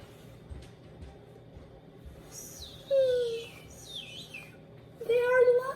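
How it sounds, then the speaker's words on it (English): A pair of lovebirds gives short, bright chirps and whistling calls in a few separate bursts, close by over a quiet indoor background, with no talking during the calls. "They are lovebirds. Lovebirds."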